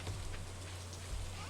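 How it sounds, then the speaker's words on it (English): Rain falls in the farming video game Stardew Valley, a soft, steady hiss of rainfall over a low constant hum, quiet and unbroken, with no voices. "there's this nice, lovely rain"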